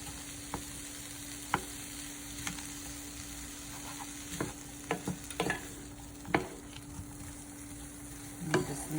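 Granny Smith apples melting together in a pan, a steady soft sizzle with scattered clicks and scrapes of a utensil stirring, close and fairly quiet, no voices.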